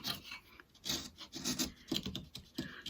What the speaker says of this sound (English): Just going to tackle that bit with a chisel because it's lifting up quite considerably